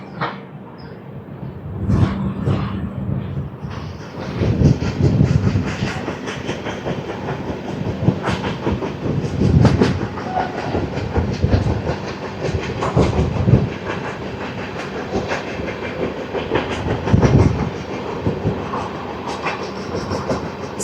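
The Repalle Express 17645 runs from Secunderabad to Repalle at night, its carriages rattling in a loud continuous roar with repeated clickety-clack bursts from the wheels over rail joints, close and steady throughout.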